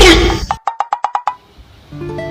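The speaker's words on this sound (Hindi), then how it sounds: "अरे सोनू साहब किसी की कॉल आ रही है, 2 मिनट होल्ड करना" A phone ringtone for an incoming call, a quick run of six bright, evenly spaced electronic beeps right after a burst of loud noise, followed by a quieter tonal hum.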